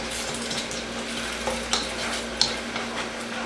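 A pan of red snapper sarciado sauce with tomatoes is stirred, giving a quiet, low simmer broken by a few sharp utensil clicks and scrapes against the pan.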